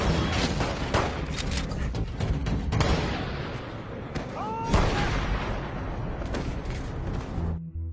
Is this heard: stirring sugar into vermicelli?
no